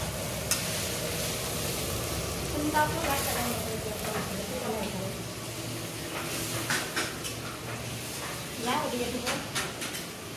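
Marinated meat frying in a pan, a steady sizzle with scraping stirs and clinks, while someone talks over it in Bengali.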